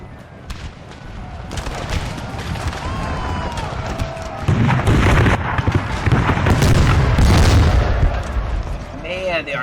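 Artillery fire in the Napoleon Total War video game, with booming cannon blasts and gunfire swelling into a dense, loud barrage of battle noise in the second half.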